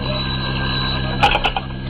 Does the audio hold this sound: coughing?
no